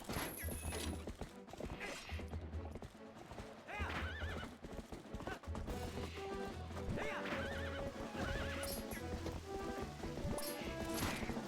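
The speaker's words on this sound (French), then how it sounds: "C'est quoi ce cheval de merde?" A horse in Zelda Twilight Princess gives a loud whinny while its hooves clip-clop in a steady rhythm across a plain, over game music and effects, with someone talking now and then.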